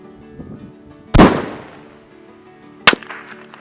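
Two sharp long-range rifle shots from a Tikka T3X in .260 Rem, fired outdoors in Australia: a loud crack with a decaying tail near the start, then a second shot a second and a half later.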